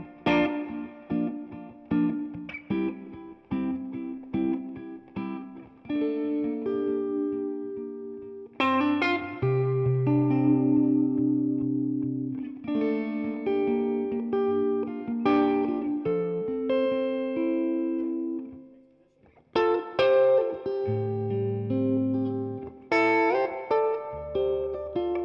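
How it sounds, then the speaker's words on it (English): A Fender Custom Shop Stratocaster in heavy relic finish plays through its neck pickup with a clean tone, ringing chords and picked melodic lines flowing continuously with a brief pause near the end, alone with no talking. "So this is the neck pickup on a cleaner type sound."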